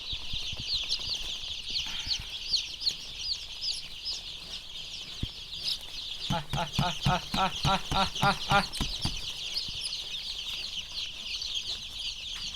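Dense, continuous high-pitched cheeping from many young Hy-Line Brown layer chicks, with a brief burst of louder rhythmic clucking partway through.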